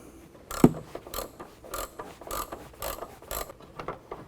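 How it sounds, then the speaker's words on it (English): A socket wrench ratchets out a 10mm tail light bolt on a Jeep JL, several quick clicking bursts spaced across a few seconds, close and fairly quiet, with no talking. "there's a plastic bolt down in there we're going to remove. So this is just a 10mm bolt."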